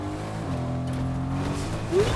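A car in the video game Fortnite pulls away with a steady, fairly loud engine drone, its pitch holding then rising slightly near the end, with no talk over it.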